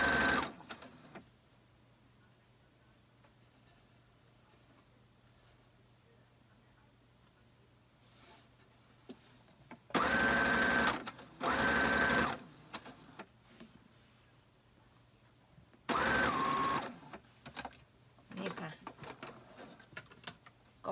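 Domestic sewing machine stitching a short-front, long-back dress without basting, running in three loud bursts of a few seconds each, with quiet pauses between them.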